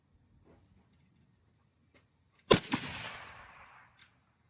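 A Henry X Model lever action rifle in .30-30 Winchester fires a single shot with hypersonic ammunition, a sharp loud crack followed by a decaying rumble outdoors, with quiet moments before it.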